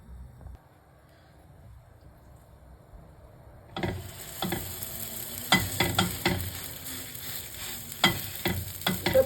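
Msemen flatbread frying in a pan: quiet at first, then a broad steady sizzle starts near the four-second mark as the dough hits the hot surface, with sharp scraping and pressing clicks over it.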